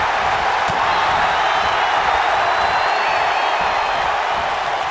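Arena crowd in the wrestling video game WWE 2K19 during a Royal Rumble match, a sustained dense roar of cheering and whooping, loud and steady, with no commentary over it.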